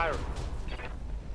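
Weapons firing in the mech combat game Roguetech, a muffled burst of heavy booming impacts with rumbling low-end tail, steady and moderately loud under game ambience.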